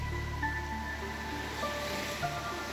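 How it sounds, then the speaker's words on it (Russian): Small, gentle sea waves lapping on a beach at Çolaklı, Turkey, a soft steady wash of surf heard alone at low level without distinct crashes. "Волны совсем маленькие."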